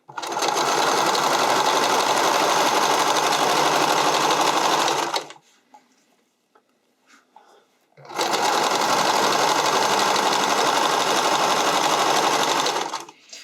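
A sewing machine runs steadily while sewing elastic into a neckline, two long loud whirring runs split by a quiet pause with faint handling noises, right up close.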